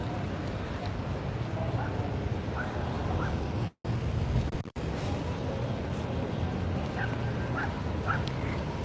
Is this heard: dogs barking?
yes